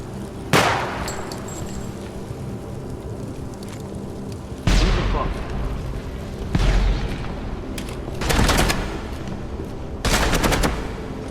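Shots from 5.56 and 30-06 weapons in a video game: four loud, booming reports spaced a couple of seconds apart, each with a quick echoing decay, over a low rumbling background.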